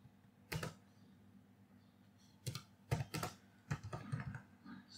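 Close computer keyboard typing while entering Python code, arriving in short clusters of quick key clicks separated by pauses, crisp and moderately loud with a faint steady background hum and no speech.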